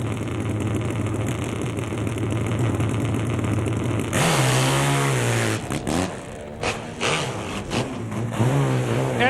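Pro hill climb motorcycle engine at a 2014 nitro event, a loud steady drone that bursts into hard revving and gear-change surges, then choppy bursts of throttle, close and powerful.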